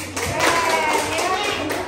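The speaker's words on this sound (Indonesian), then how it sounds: "Oke, tepuk tangan." A group of schoolchildren claps hands in scattered applause in a classroom while their voices chatter underneath.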